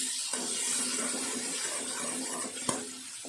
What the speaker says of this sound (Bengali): আর 1 চামচ নুন দিয়ে মশলাটা ভালো করে কষাতে হবে।